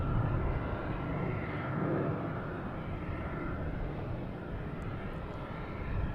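A Delta Airbus A321 airliner arriving from Atlanta at Boston Logan Airport makes a continuous broadband jet roar at moderate distance, holding steady throughout with no talk.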